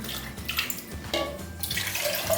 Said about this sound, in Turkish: Suyumu dökeceğim üzerine hemen.